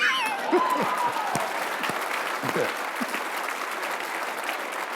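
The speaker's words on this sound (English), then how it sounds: "Now, right there, you're supposed to clap." Scattered audience applause follows a line in a talk by a coach, with moderate steady clapping across the room and a faint voice briefly at the start.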